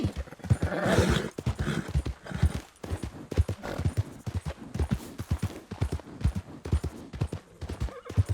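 Hooves clip-clop steadily as a tired horse walks in Red Dead Redemption 2, a close, even rhythm of hoof strikes running throughout with a brief snort or whinny near the start.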